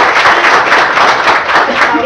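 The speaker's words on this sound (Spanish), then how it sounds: "Un aplauso para Julio." Audience applause at a climate change forum, a dense steady wash of clapping filling the room for about two seconds, with some crowd murmur mixed in.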